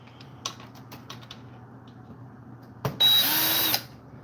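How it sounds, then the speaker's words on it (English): An old Porter Cable power drill, being used while taking a carburetor off a chainsaw, gives one loud close burst of roughly a second after some faint tapping and handling noises. "I love my old ass Porter Cable drill, man."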